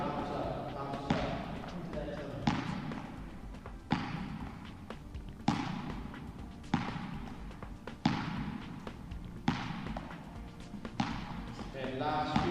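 Balls bounce off a hard floor during a children's throwing and catching drill, landing as regular sharp thuds roughly every one and a half seconds, with an instructor talking over them throughout.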